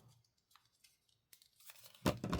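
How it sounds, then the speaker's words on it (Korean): Scissors cut through folded paper for a papercraft robot, quiet sparse snips and rustles building to a louder, close crunching cut at the end. "가위로 자릅니다."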